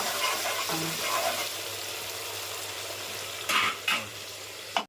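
Freshly washed, chopped coriander fries in a pan for boti fry, a soft steady sizzle with stirring scrapes and a few louder clatters near the end, close by with no talking.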